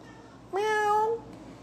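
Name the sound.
cat meowing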